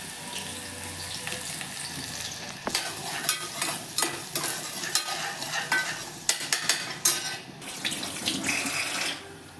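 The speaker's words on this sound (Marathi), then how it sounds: "मग आता मी खिचडी बनवते." Khichdi being cooked in a home kitchen pan, with scraping stirs and sizzling frying alongside splashing water and clatter, irregular bursts growing busier after the first few seconds, fairly close, no talking.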